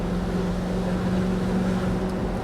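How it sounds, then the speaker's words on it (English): A steady, low engine drone runs without pause, a deep constant hum of a BMW V8 engine in a Range Rover heard from inside the car, with some wind noise. "Such a nice noise, that BMW V8."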